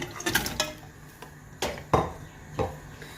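Mutton pieces dropped into hot oil in a cooking pot for Afghani mutton karahi, heard as a few separate clattering, sizzling thumps a short distance away, with quiet pauses between them and no talk.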